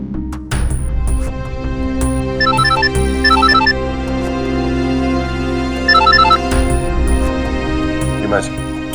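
An electronic phone ringtone plays a repeating melodic pattern in short bursts over background music and drama score, loud and close, interrupted once by a sharper chime.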